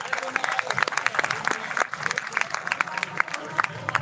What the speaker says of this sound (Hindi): तो एक बार तो आप महासंघ के नाम से जोरदार तालियां दो